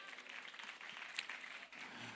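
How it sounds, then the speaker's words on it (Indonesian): Faint, distant applause from a gathering at an Islamic boarding school media event, a soft, even patter of clapping hands that carries on steadily from start to finish. "Beri tepuk tangan yang meriah kepada beliau."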